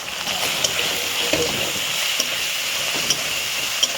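Spices fry in a pan with a little water just added for a chicken kosha, making a steady, loud bubbling sizzle with a few soft stirring scrapes and no talking.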